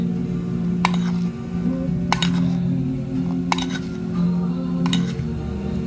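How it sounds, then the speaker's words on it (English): Baking soda being stirred into lemon juice in a container, with a utensil clinking against the sides four times at a steady spaced rhythm over a constant low background hum. "I'm mixing the baking soda with the lemon"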